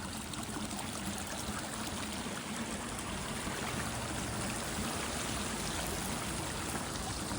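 A swollen creek rushes steadily nearby, a constant broad roar of flowing water with no voices.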